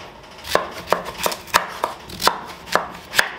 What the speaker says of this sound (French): on va pouvoir découper le potimarron avec la peau